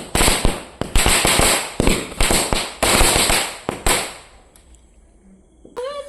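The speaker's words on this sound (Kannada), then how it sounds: "ಮಾಲೆ ಪಟಾಕಿ ಬುಡ್ಕಾ" A long string of firecrackers set off for Diwali crackles in rapid, loud bursts for about four seconds, then stops, leaving faint background noise with a brief voice near the end.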